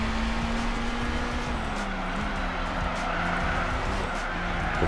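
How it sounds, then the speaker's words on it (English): Tires spinning under nitrous boost on a Suzuki concept race car in Gran Turismo 4, a steady loud engine roar and wheelspin whine with a sustained squealing tone running throughout, no talking. "spinning the tires with the nitrous"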